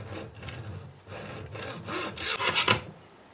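A rubber fuel hose on a Toyota MR2 being cut down during a rusty fuel line repair, heard as a series of rough, rasping sawing strokes, close and moderately loud, ending with a quick burst of harder strokes.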